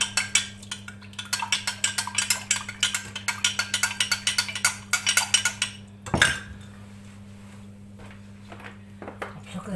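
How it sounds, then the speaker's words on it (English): A metal spoon clinks rapidly and steadily against its container while stirring a stock cube into stock for butternut squash, coconut and chilli soup, over a constant low hum; the clinking stops after about six seconds, followed by one dull knock and quiet. "use a spoon to mix up the stock cube"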